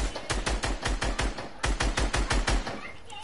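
Fortnite gunfire, a steady string of loud, evenly spaced shots fired in quick succession for several seconds, close and punchy, with faint speech in the background.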